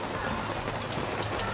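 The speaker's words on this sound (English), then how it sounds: "As you can see, it's still raining" Steady rain falls and patters on surfaces nearby at a holiday park in Bright, a dense, even hiss with no voices.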